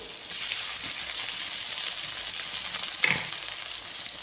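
Tomato pieces and a little cumin paste sizzle hard in a hot pan, a steady bright frying hiss that swells near the start and holds throughout, with a brief stir or drop partway through; no one speaks.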